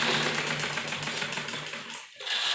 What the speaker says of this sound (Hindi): दोनों कंधे हमें इसी तरह से जोड़ने हैं डबल सिलाई करते हैं।